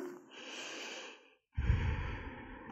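Long, deep breaths during a yoga session: a slow, airy exhale fades into a short pause, then a fuller, louder inhale follows, heard close and alone with no talking.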